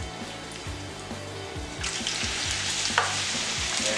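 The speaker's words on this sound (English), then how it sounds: "Add your shrimps." Large shrimp drop into a hot pan on lowered heat, the sizzle swelling into a loud, bright crackle partway through and holding steady, with soft stirring scrapes beneath.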